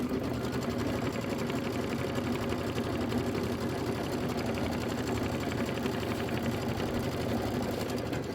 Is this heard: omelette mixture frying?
no